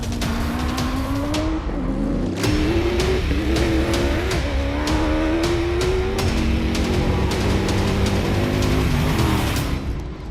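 Gravel road racing vehicles, including a Toyota Hilux rally truck, at the start of a race: loud close engine revving with rising pitch and sharp gear-change breaks, continuous throughout.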